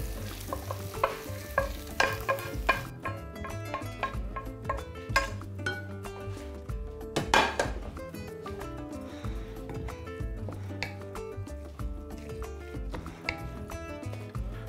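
Fried ingredients are stirred into minced meat filling for cabbage dolma, a wet squelching and scraping of a spoon working the mixture in a steady, repeated rhythm, close and moderately loud.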